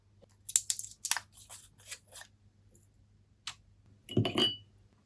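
Packaging of new Paul Rubens watercolor paints being unwrapped, a few close crinkly tearing and rustling bursts separated by quiet gaps, with a faint hum underneath.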